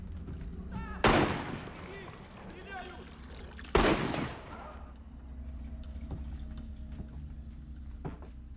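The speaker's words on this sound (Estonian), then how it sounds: "lubage mul teha paar pauku" Two loud gunshots ring out a few seconds apart, each a sharp blast with a short decaying tail, followed by a quieter room hum and faint clatter.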